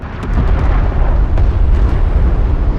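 A destroyed strike craft explodes in Homeworld: Deserts of Kharak, a loud, dense rumbling blast with scattered crackling pops, sustained for a few seconds without any voices.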